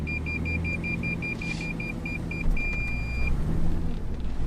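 A pickup truck engine labours up off-road ruts. A low rumble swells louder toward the end, and a rapid electronic warning beep repeats over it for the first few seconds.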